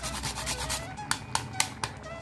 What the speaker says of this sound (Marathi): जरा जायफळ सुद्धा किसणीने किसून वापरायचं आहे।